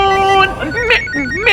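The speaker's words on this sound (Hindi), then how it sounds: "अरे फोन फोन" An electronic phone ringtone plays a melodic tone loudly and nearby, with tonal wavering notes and a brief voice exclaiming over it.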